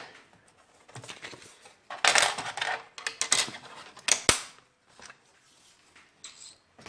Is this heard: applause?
no